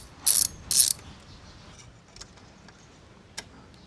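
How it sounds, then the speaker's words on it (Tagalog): Two short, bright ratcheting bursts from an 8mm socket ratchet loosening the screws on a Burgman scooter, followed by faint scattered clicks and handling taps in a quiet space. "gamit tayo ng 8mm na socket para dito sa dalawa"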